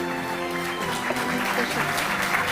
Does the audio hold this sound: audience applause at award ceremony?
yes